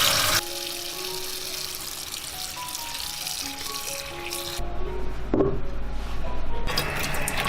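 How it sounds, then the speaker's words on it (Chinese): Tap water runs over two bitter melons in a kitchen sink, a steady close splashing hiss with a deeper rush of flow in the second half, and no voices. "这时候我们来洗2根苦瓜"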